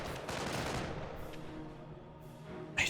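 Explosions and gunfire in a Company of Heroes battle, a dense rattle of shots and blasts that fades slightly before a sharp louder bang near the end, with no talking.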